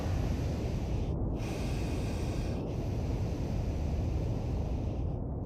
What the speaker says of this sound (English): you hear the valves of the pressure suit as you breathe